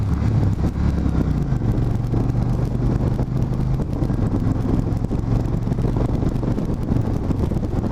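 1600 cc V-twin cruiser motorcycle underway, a continuous low engine rumble buried in heavy wind rush, steady and even throughout.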